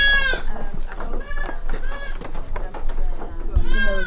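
Non-milking goats bleat repeatedly in a pen at a mixed farm. The loud, close, overlapping calls continue throughout while people talk nearby.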